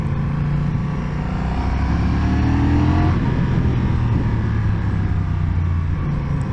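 Honda CMX1100 Rebel motorcycle engine pulling under acceleration on a test ride, a steady loud rumbling drone with rising tone and heavy wind rush, close and continuous, no talking.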